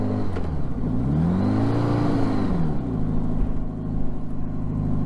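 A motorcycle accelerating, its engine note rising and sweeping up, then dipping and stumbling briefly before catching and pulling again, loud and close throughout.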